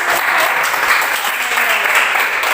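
Classroom applause from students during a science teaching-practice lesson, a steady dense patter of many hands clapping close by, continuous for a couple of seconds with faint voices mixed in.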